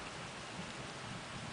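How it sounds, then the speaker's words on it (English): Steady rain falling outdoors at the start of the fall season, a dense even hiss, with a low rumble of distant thunder underneath. "Little bit of thunder."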